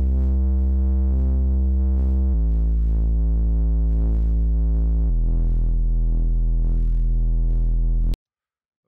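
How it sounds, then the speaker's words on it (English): A heavily distorted synth bass patch in Serum, with distortion pushed to about 90, plays three sustained buzzing notes stepping downward, loud, harmonically rich and gritty, cutting off abruptly at the end. "So from effects, we want a little bit of distortion."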